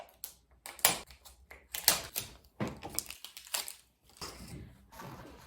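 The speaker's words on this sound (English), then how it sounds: "Now we're gonna actually tape the backs." Packing tape being pulled and pressed onto the backs of cardboard mockup boxes, with several sharp ripping, crinkling bursts separated by short pauses, close and fairly loud.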